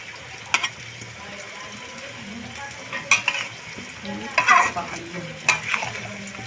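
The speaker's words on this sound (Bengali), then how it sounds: "ভালো করে লাউটা ভেজে দিলাম পুরো লাউয়ের সাথে আমি হলুদ লবণ খুব ভালো করে মিশিয়ে দেওয়ার চেষ্টা করছি" Bottle gourd frying with turmeric and salt, a soft steady sizzle broken by sharp spatula scrapes and clinks against the pan at irregular intervals, close and without talk.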